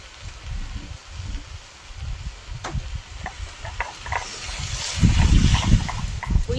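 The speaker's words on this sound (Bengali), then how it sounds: "এবার তরকারিতে জল দিয়ে দেবো।" Water poured into a curry of vegetables, taro and greens cooking in a pot over a clay stove, a soft splashing and stirring rustle that swells louder toward the end.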